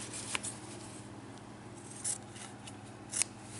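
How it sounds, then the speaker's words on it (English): Scissors snipping through fabric while cutting out a dart on a sewing pattern, three or four short crisp cuts spaced apart, close but fairly quiet over a low background hum. "then you'll cut out the fabric"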